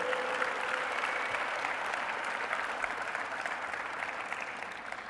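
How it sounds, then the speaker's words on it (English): Steady, dense applause from a large crowd of graduating students at a 2022 high school graduation ceremony, sustained and even throughout without pause. "Students, please rise and give some applause for your families and for your teachers"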